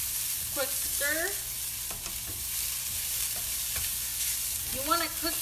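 Frying food for kimbap, sprinkled with sugar and given a quick stir: an even, close sizzle throughout with short squeaky scrapes of the utensil in the pan.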